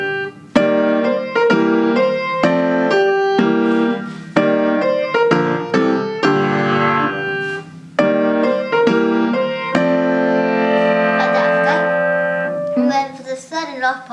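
A piano plays a theme in a series of sustained chords and melody notes, close and fairly loud, running steadily over about fourteen seconds with no talking.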